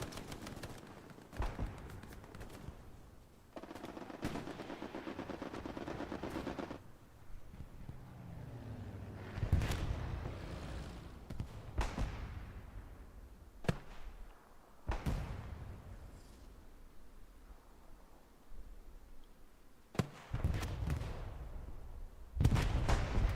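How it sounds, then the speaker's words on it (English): Artillery rounds fall into a tree line in the WWII shooter Hell Let Loose: several heavy booms and crashes at irregular intervals, some close and sharp, others distant and rumbling, with wind noise between them. "SPA rounds begin to fall into the tree line."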